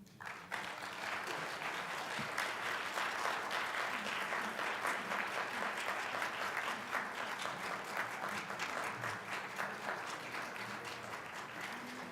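Sustained, even applause from a congregation at an interfaith Thanksgiving service, rising quickly after a reading and holding steady at a moderate, somewhat distant level throughout.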